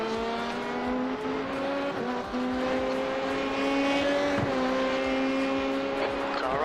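Race cars in iRacing at Sebring roar close by with steady engine tones that shift pitch as a faster car approaches and passes, with a brief tire scrub, all continuous and loud.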